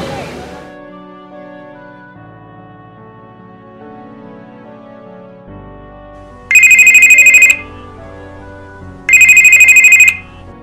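A telephone ringing in an Italian feature film: two loud, electronic trilling rings roughly two and a half seconds apart, rising over quiet sustained background music.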